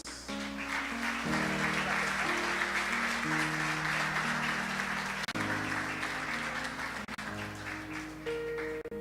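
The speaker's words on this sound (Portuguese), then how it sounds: "Palmas para Jesus." Church congregation clapping together during a Brazilian evangelical service, a dense, sustained wash of applause filling the room, loud and continuous under a warm musical backing.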